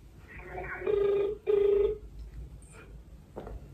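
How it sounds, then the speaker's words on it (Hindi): An outgoing phone call rings back with two clear, close tone bursts in a quick pair, followed by faint quieter sounds on the line. "चलो गाइस कॉल करते हैं"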